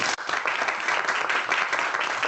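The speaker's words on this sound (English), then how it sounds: "give them a round of applause" Audience applause at a student elections panel discussion event, a steady burst of clapping from the crowd filling the room, loud and sustained throughout.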